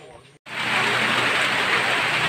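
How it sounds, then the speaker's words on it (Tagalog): Heavy rain pours steadily outside, a dense, loud, continuous hiss that cuts in after a brief pause and holds unbroken to the end. "Ang lakas ng ulan sa labas."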